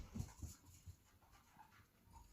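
A female dog pants close by in soft, quick breaths, with a few louder huffs early on and quieter breathing after that, all without any talking.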